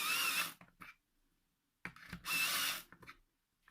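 A battery-powered pencil sharpener grinding a coloured pencil, its batteries running low: two short, close whirring bursts with a faint whine, split by a pause and followed by small rattles.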